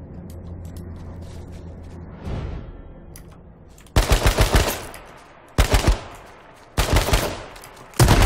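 Video game gunfire, several sharp loud bursts of automatic shots separated by short pauses, starting after a quieter mechanical stretch with a faint low hum.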